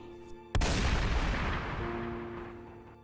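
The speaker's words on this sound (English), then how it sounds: "gunshots were going off regularly" A single loud gunshot blast goes off inside a steel-and-concrete supermax prison, striking sharply and leaving a long, rumbling reverberation that slowly decays over the following seconds.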